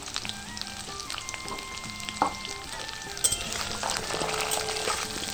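Potato and taro pieces frying in hot oil, a continuous crackling sizzle that swells toward the end, with a few soft stirring knocks.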